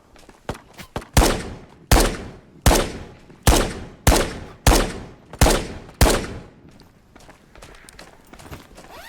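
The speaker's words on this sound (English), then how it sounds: "They're probably shooting me." Gunfire aimed at the player in the shooter Ghosts of Tabor, with a few quick cracks and then a steady string of about seven loud, evenly spaced booming shots that fade into quieter scattered noise.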